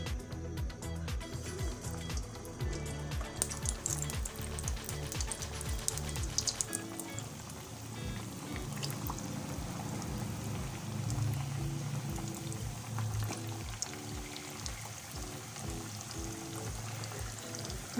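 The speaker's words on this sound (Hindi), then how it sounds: "मीडियम आंच पे इन्हें फ्राई करेंगे।" Egg koftas deep frying in hot ghee over a medium flame give a steady, dense bubbling sizzle that runs unbroken throughout, fairly soft and close, without speech.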